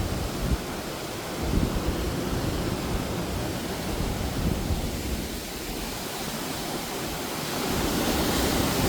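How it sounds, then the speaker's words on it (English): Waterfall near Ullswater in the Lake District, heard from on top of the falls as a steady, loud, broad rushing roar of falling water with no breaks and no voices. "And we're actually on top of the waterfall now."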